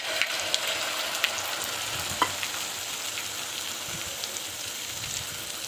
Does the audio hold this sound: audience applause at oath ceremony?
no